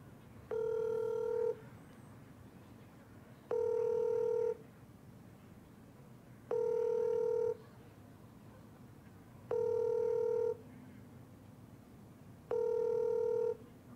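A telephone call being placed, with five evenly spaced steady electronic tones each lasting about a second, separated by pauses, clear over a quiet background.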